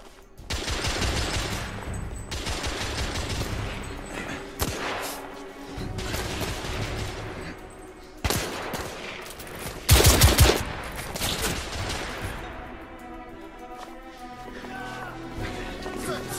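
Rifle gunfire in The Order 1886 video game during a street fight against fugitives, with repeated loud shots and bursts cracking close by in an uneven rhythm, one especially heavy blast standing out, with voices briefly heard between volleys.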